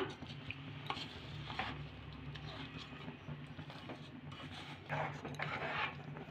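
Amla pickle with jaggery being stirred in a pan, continuous scraping and soft sizzling of a spoon moving through the thick mixture, close, with a person talking over it.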